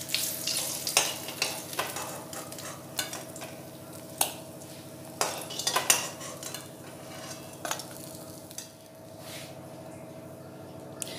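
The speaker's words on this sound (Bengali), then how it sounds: "মাছের মাথাগুলো আবারও খুব ভালোভাবে ভাজা হয়ে গেছে" Fish heads fry in hot oil for a Bengali fish-head curry, a steady sizzle broken by sharp clinks and scrapes of a utensil against the pan, close and fairly loud, with no talking.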